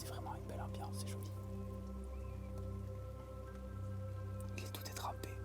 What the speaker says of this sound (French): Sous la pluie, c'est vraiment une belle ambiance.